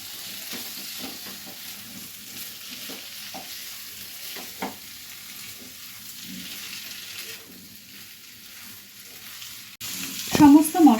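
Chicken pieces with spices sauté in a pan for boneless chicken gravy, a steady close sizzle with soft stirring scrapes, ending in a few louder clatters near the close.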